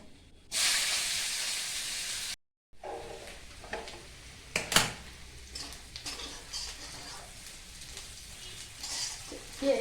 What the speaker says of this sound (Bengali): এখন দিয়ে দেবো কুচানো পেঁয়াজ।